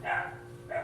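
A husky gives a short double bark, two quick yips close by with a brief pause between them, heard alone in a garage setting.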